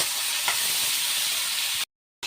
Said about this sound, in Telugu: ఆనియన్స్ ఇలా మంచిగా ఫ్రై అయినాక బీన్స్ వేసేసి దగ్గరగా అయ్యేంత వరకు మంచిగా ఫ్రై చేసుకోవాలి